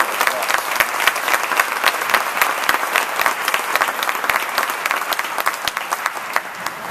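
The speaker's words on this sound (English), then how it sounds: "Give him a great round of applause." An audience at a developmental disabilities program event gives sustained, loud applause, with many clappers and some sharp individual claps standing out in a steady, even roar.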